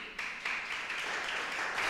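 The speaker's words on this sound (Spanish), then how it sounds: "¿No le das un aplauso a Dios?" A church congregation applauds steadily during a pastor's sermon, a dense, even wash of clapping that stays fairly loud and continuous throughout, with no voice rising above it.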